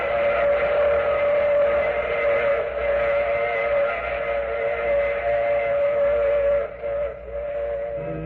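A steam train's whistle used as a sound effect in a radio drama, one long, loud, sustained tone over a rumbling rail bed that dips briefly near the end.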